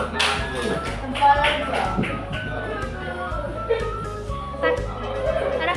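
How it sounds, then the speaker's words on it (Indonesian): A primary school classroom bursts into applause for a group coming up to present, with patterned rhythmic clapping and tapping from many children, loud and close, with some voices mixed in. "kasih aplaus"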